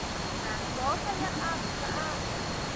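Kuang Si waterfall in Laos pours in a steady, dense broadband roar that fills the whole clip, with faint voices drifting in the background.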